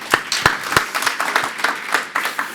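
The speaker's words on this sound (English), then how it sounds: "So warm applause for Louison," Applause from a small audience at a tech talk on Bitcoin as a speaker is welcomed on stage; sparse, uneven claps at moderate loudness, individual hand strikes distinguishable rather than a dense roar.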